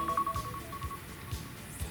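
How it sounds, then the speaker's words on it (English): A phone alarm sounds, a thin, repeating electronic beep tone pulsing several times at moderate level over a muffled low rumble. "And now my alarm's going off on my phone"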